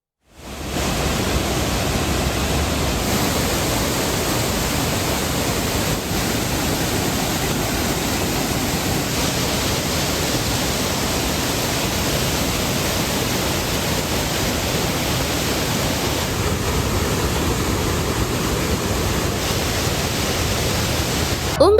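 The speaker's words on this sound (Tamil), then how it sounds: "திருப்பரப்பு அருவியில் கடும் வெள்ளப்பெருக்கு ஏற்பட்டுள்ளது" Thirparappu waterfall in heavy flood, a dense, steady roar of rushing water that holds at full, even loudness with no breaks.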